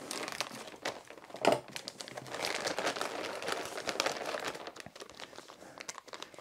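Dense plastic bag crinkling and rustling while packing RC car parts runs through the whole stretch, with a sharper crunch early on, close up and fairly steady.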